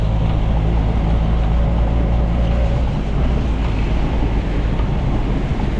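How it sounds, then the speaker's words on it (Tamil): Strong storm wind roaring steadily against the microphone in Jaffna, with a dense rushing wash of heavy rain throughout, loud and unbroken. "இப்போ காற்றும் கொஞ்சம் அடிக்க தொடங்குது"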